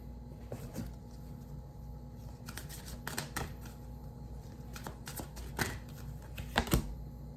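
Tarot cards are shuffled and handled close up in quick, irregular bursts of papery riffling and flicks over a low steady hum, with no talking.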